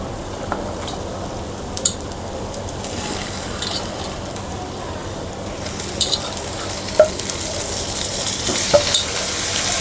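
Ginger garlic paste and green chillies sizzle steadily in a pan while a spoon stirs them, with a few sharp clinks of metal against the pan rising above the continuous frying hiss.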